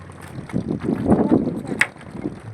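Boats pass on a river near a fair, with a low rumbling wash of engine and water rising and fading alongside wind buffeting the microphone.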